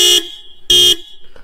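The dual horns on a Yezdi Roadster motorcycle sound two short, loud, steady blasts, each under half a second, separated by a brief pause, heard close by with no talk.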